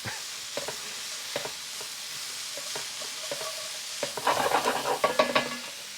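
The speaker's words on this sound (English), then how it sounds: "Whenever I saute vegetables" Chopped vegetables including carrot sauté in a pan for a broccoli and cheese soup: a soft, steady sizzle broken by scraping stir strokes, which grow busier and louder toward the end.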